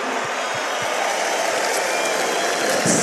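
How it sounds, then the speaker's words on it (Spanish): Steady roar of crowd applause and cheering from a large festival audience for Becky G at the Quinta Vergara amphitheatre in Viña del Mar, loud and continuous throughout with no pauses. "El aplauso a la Quinta Vergara para Becky G."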